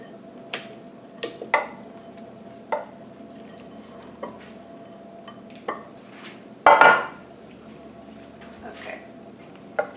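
Cut peach pieces slide and clatter from a 9x13 pan into a bowl, giving a string of soft thuds and light clinks with one louder scraping clatter near the end, close by in a quiet kitchen.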